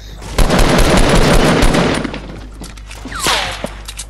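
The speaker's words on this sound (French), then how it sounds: "Il a sorti son pistolet mitraillette." A submachine gun fires in Fortnite, a loud, rapid, continuous burst of shots that fades into scattered impacts and a few trailing thumps.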